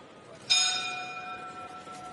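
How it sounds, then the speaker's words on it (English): Boxing ring bell at the start of a round in a professional bout, a single bright metallic strike at close range that rings on with a long, slowly fading tone over quiet arena ambience. "So bell goes for the start of the round"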